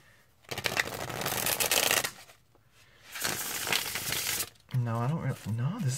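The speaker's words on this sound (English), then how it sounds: "Shuffles overhand pretty nicely." Thin-cardstock Sasuraibito tarot cards being shuffled overhand, two loud, close riffling bursts of a second or two each, separated by a brief pause, followed by a voice speaking.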